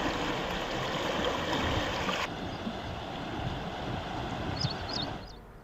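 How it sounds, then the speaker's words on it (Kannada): Krishna River water rushing over the Hipparagi barrage bridge during rising flow, a steady broadband roar of flowing water, loud and continuous, with a few faint chirps near the end. "ಬಟ್ ಈಗ ನೀರು ಪಾಸ್ ಆಗ್ತಾ ಇದೆ ಒಂದು ಕಡೆಯಿಂದ ಮತ್ತೊಂದು ಕಡೆಗೆ"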